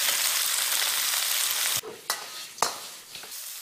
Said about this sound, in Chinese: 处理好的甲鱼下锅翻炒